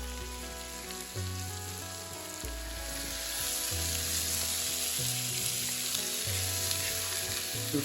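Green pepper and celery fry steadily in a pan with a dense, continuous sizzle and crackle, alone with no voices over it.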